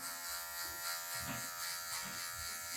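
An electric hair clipper buzzes steadily while cutting a mid fade in a V shape, a continuous close whine that wavers slightly as the blade moves.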